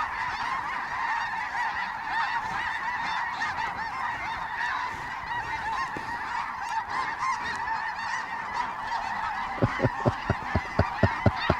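Geese honking in a dense chorus over a hunting spot, a continuous clamor of overlapping calls that swells louder, with sharp, regular honks standing out near the end.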